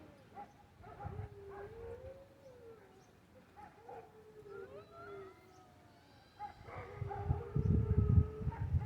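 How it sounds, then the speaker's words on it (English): A dog howls in drawn-out, wavering notes, fairly faint and distant, rising and falling several times over a quiet outdoor background, with a louder rumbling noise near the end. "If you hear the howling going on,"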